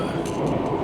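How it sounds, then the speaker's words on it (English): Inside the Skyliner train running from Nippori to Narita Airport, a loud, steady rumble of wheels and carriage fills the space, with faint rhythmic clicks in the background. "Right now I'm in Skyliner train"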